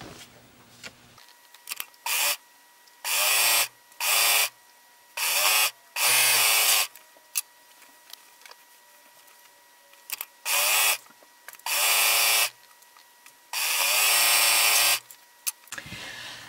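Sewing machine working a stretch lightning-bolt stitch up a t-shirt side seam, heard as short bursts of close, loud whirring separated by silent pauses, about a dozen starts and stops with no voices.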